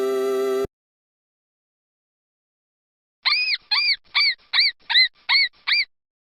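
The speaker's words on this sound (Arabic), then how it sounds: "فأر." A mouse gives a run of seven short, high-pitched squeaks in quick, even rhythm, close and clear, following a brief tonal chime and a long silence.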